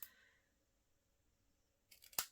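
Hand scissors snip through a paper craft tag in one quick, crisp cut near the end, after a short rustle and near silence.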